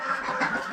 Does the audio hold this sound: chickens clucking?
yes